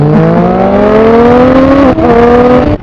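A Triumph Street Triple R motorcycle fitted with a full Arrow exhaust system and a quickshifter revs hard and loud, close by, its engine note climbing steadily with a short dip partway through.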